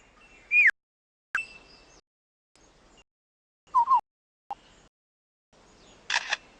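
A lyrebird in a forest mimics a camera shutter, giving a handful of sharp separate clicks and whirring snaps with quiet gaps between them, clear and fairly close against near silence.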